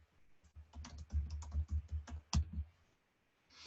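Fingers tap out a short command on a computer keyboard, a quick run of soft, close clicks and keystrokes ending in one firmer press, then silence.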